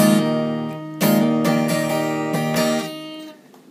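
An acoustic guitar plays a strummed rhythm with hammer-ons, giving several bright downstrokes and ringing chords that sustain briefly before fading at the end, with no voice.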